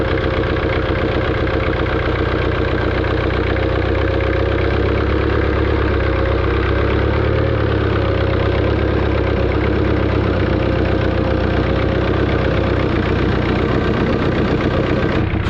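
Jeep XJ engine working steadily as it crawls out of winter snow on its front locker without winching or airing down, a loud continuous low rumble with no talk over it.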